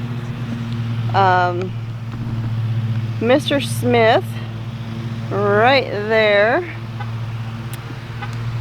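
A new riding mower runs steadily in the background, a low continuous engine drone beneath someone talking nearby throughout.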